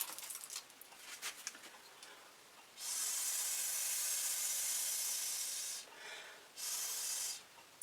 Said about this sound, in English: see if I can blow it around